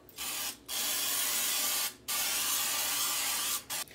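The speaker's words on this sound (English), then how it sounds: "I'm going to put a thin coating of olive oil into this bowl here." Olive oil mists from a pumped hand sprayer into a bowl in three long hissing bursts, each lasting over a second, separated by short pauses and followed by a brief final spritz.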